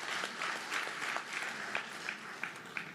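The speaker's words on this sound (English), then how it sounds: "Big round of applause, ladies and gentlemen." Steady applause from an audience at a government performance contracts signing ceremony in Zimbabwe, continuous clapping with a few sharper claps standing out.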